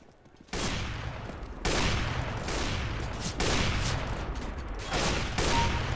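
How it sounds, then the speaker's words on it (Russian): Dense gunfire from the video game CS:GO, heard as continuous rapid shooting in several long bursts that fill the whole stretch, loud and close with barely any pause. "Хватит стрелять по мне, что ты делаешь?"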